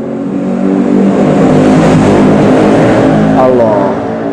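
Loud, continuous engine roar like a car revving at a race circuit, dense and sustained at close range, with a voice speaking under the noise.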